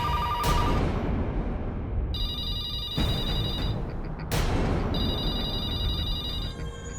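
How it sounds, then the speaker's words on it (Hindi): A telephone rings out in a horror drama, bursts of bright electronic ringing repeating in a regular pattern over a low rumbling background. "ये तो उस आत्मा का ही फोन लगता है।"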